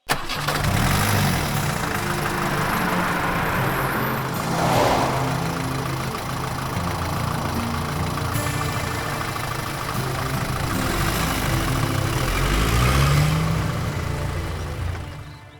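A car engine cranks and catches, then settles into a steady mid-pitched idle with slight revs, heard close and continuous with a brief swell near the end.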